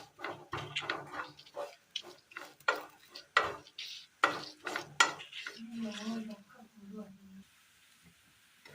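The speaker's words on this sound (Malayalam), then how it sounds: "ചെറുതായി തേങ്ങയുടെ കളർ ഒന്ന് മാറി വരുന്ന സമയം ഇതിലേക്ക് ഒരൽപ്പം മഞ്ഞൾപ്പൊടി ഇട്ട് കൊടുക്കുക, ഒരൽപ്പം മല്ലിപ്പൊടി" A spatula stirs grated coconut with turmeric and coriander powder in a frying pan for a Kerala curry, with soft scraping and clinking beneath continuous spoken narration.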